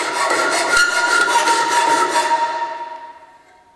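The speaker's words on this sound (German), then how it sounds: "So, jetzt schärfe ich auch die Gegenseite mit der Feile." Long, steady rasping strokes of a hand file sharpening a lawn mower blade, a close, gritty scrape with a faint ringing metal tone that tapers off as the stroke ends.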